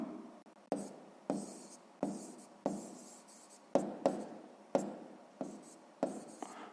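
A pen writes on paper during a sixth-grade maths exercise, making a series of regular scratching strokes roughly every half second. The strokes are close and quiet, with no voice over them.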